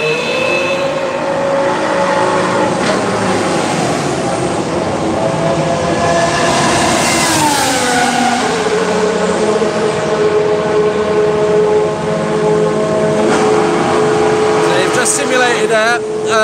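Mercedes W10 2019 Formula 1 car at pre-season testing, its engine growling and crackling on the overrun with shifting pitch as it passes, loud and continuous, with a commentator talking over it.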